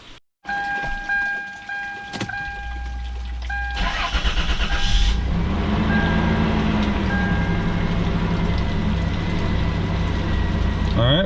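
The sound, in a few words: Toyota 4Runner engine starting and idling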